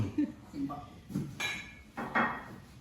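New plates and cutlery being handled as a gift is unpacked, with several separate clinks and knocks of dishes and utensils, close by, mixed with people talking.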